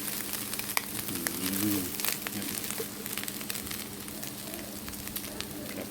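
Pork belly dry-roasting in a pan with chili and salt gives a steady, close sizzle and crackle that runs throughout, with small pops scattered through the frying noise.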